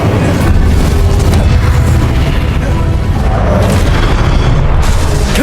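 Incendio fire spell blast in Hogwarts Legacy, a loud, sustained booming roar of fiery energy that fills the whole stretch with dense low rumble and crackle.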